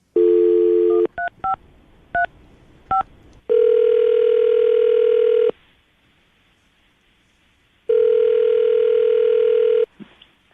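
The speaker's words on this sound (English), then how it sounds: "See if we can get her on the phone" A telephone call being placed: a quick run of DTMF keypad tones, then long steady ringback tones with a pause between them, loud and close with no talking.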